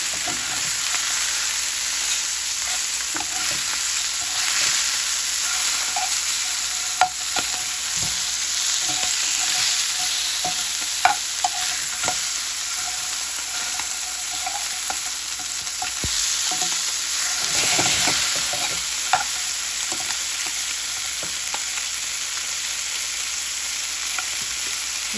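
Fresh rohu fish frying in hot oil, a steady broadband sizzle and crackle running throughout with occasional sharp pops and spatula scrapes, close and continuous with no talking.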